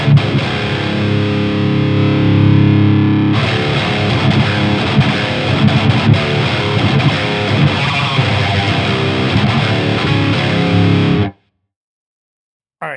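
A guitar runs through the first channel of a Bogner Uber Ultra amp in Uber mode, giving a loud, heavily distorted riff that carries on for about eleven seconds and then cuts to silence.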